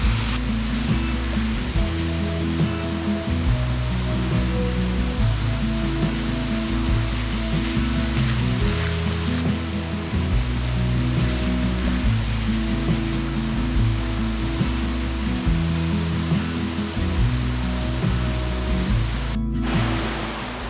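Autumn waterfall pouring steadily, a broad continuous rushing roar of falling water, loud and unbroken, with a low hum underneath.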